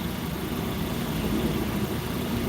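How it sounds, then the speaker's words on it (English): A loud tow truck engine idles and rumbles nearby on a city street, a steady low drone filling the moment with no break. "This tow truck's a little loud."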